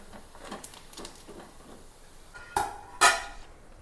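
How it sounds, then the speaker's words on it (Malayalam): Pieces of fried fish for fish pickle drop into a metal vessel, giving two sharp, close clinks near the end after soft rustling and light scraping. "പാത്രത്തിലേക്ക് ഇടുമ്പോൾ കിലുകിലാ ശബ്ദം കേൾക്കണം"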